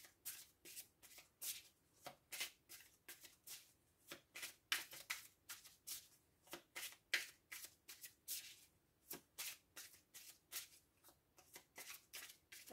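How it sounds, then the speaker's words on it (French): Oracle cards are shuffled by hand in a steady run of soft, rapid riffling bursts, close and quiet, repeating about twice a second with no talking. "je vais tirer 3 cartes de l'oracle Mission de vie pour savoir justement à quoi il faut vous attendre"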